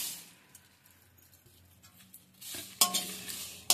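Spices for homemade biryani masala powder are dry-roasted in a pan, faint scraping and stirring at first, then a louder rattling burst as more whole spices tumble in near the end.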